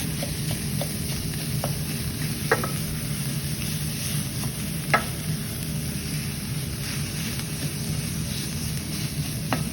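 Drained spinach sizzles gently in a pan as a spoon scrapes and taps against it a few times, steady and close.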